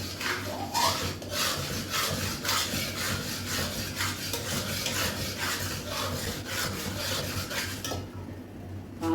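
Semolina for a large batch of halwa is stirred and roasted over a low flame, a steady continuous scraping and rubbing of a spoon against the pan, moderately loud and close, going on throughout with no talking.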